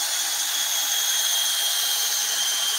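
A power drill drives screws into the wood of an Adirondack chair, giving a steady, close, high-pitched motor whine that runs unbroken with no talking.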